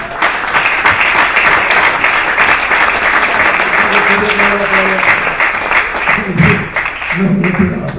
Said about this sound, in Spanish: No me aplaudan.